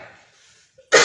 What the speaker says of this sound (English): You may say I'm coughing.